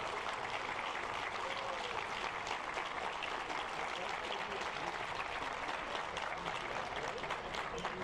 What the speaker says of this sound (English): So big round of applause for everyone here.